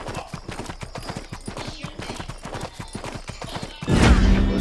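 Rapid steady clip-clop of galloping horse hooves in the video game Six Guns, loud and close, ending with a heavier burst of noise.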